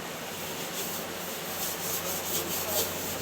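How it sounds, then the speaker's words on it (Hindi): Scrubbing of a kitchen stove during deep cleaning, a continuous close rubbing and scouring noise with faint rhythmic strokes and no talk. "ये सुनैना के मम्मा सारा चूल्हा साफ़ कर रहे हैं, सारी इसकी डीप क्लीनिंग।"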